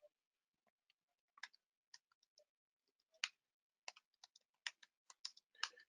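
Someone types a name on a computer keyboard, producing irregular bursts of crisp key clicks, close and fairly quiet against near silence, with no talking.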